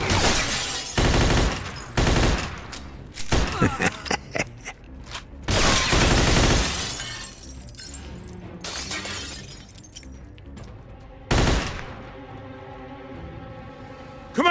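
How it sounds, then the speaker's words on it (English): Heavy gunfire from the Mafia II video game: loud, repeated bursts of shots and automatic fire, mixed with shattering glass, rolling on and off through a chaotic shootout. "They're shooting from up top!"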